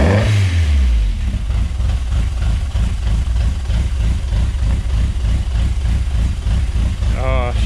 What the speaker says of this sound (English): give her a couple of revs